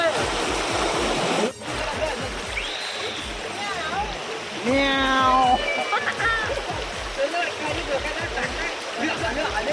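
A river flowing through a village countryside spot, a steady broad rush of moving water heard close and continuous while people talk over it.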